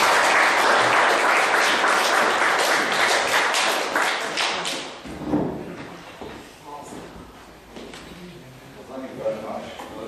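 A roomful of people applauds to welcome a speaker at a talk about his years at NASA, loud clapping fading after about five seconds, followed by scattered claps and sounds under a man's speech.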